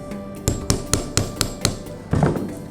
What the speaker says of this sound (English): And then you just hammer it in.